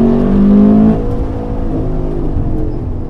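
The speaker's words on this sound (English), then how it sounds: "Just scrubbing the speed with the front end and then rolling on the throttle." A 2016 Chevrolet Camaro 1LE accelerates on a race track, its engine note droning steadily and loud from close inside the car, pitch shifting slightly as the throttle rolls on.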